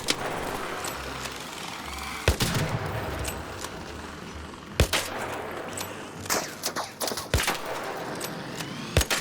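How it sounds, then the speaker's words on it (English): Gunfire crackles through a firefight in the video game ARC Raiders, with scattered single shots and bursts ringing out at irregular intervals over a constant rumbling background, some shots sharp and near, others more distant. "Someone's getting shot at a lot."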